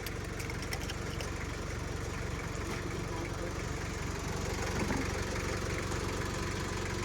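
A car engine idles steadily under an open hood, a dense even rumble with a faint rhythmic throb, close and unchanging throughout with no voices.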